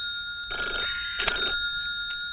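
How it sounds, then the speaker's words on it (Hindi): Telephone ringing in a Hindi film scene, two clear bursts of a bright electronic ring with a faint third touch, close and fairly loud over a quiet room. "फोन उठा"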